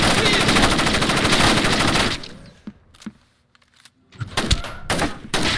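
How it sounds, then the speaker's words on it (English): Rapid automatic gunfire from the stealth shooter Splinter Cell rattles loudly for about two seconds, then a few scattered single shots and thuds break a near-silent pause before another burst of heavy firing resumes. "Incoming fire!"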